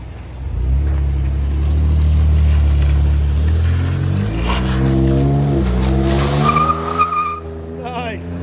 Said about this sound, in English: F-150 EcoBoost V6 muffler delete. I left the resonator on there.